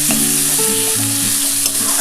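Vegetables for veg fried rice frying in a pan with little or no oil, a close, loud, continuous sizzle with stirring and faint clinks, no voices.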